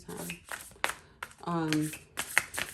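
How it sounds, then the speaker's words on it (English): Tarot cards being shuffled by hand in a series of quick riffling bursts with a few sharp snaps between them, close and fairly soft, with no talking in the clip. "All right, last shuffle."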